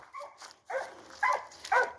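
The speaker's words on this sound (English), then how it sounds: "This dog is crazy. There's something in the ground and he is barking at it and attacking it" A dog barking at something in the ground, several short, sharp barks and yips in quick bursts, close and loud.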